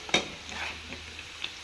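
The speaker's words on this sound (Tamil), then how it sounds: "பாருங்கள், இறால் எப்படி முருகி பொரிஞ்சு வருது பாருங்கள்." Prawns frying crisp in a pan for Tuticorin-style prawn pickle, a soft crackling sizzle with one sharp spit near the start and a few faint pops after, fairly quiet and close.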